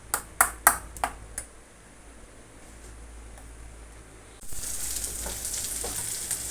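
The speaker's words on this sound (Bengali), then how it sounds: "বড়াগুলো আগে ভেজে নিই।" Chana dal fritters drop into hot oil in a kadai: a few sharp metallic taps and pings first, a quiet pause, then a sudden loud, steady sizzle of frying that carries on to the end.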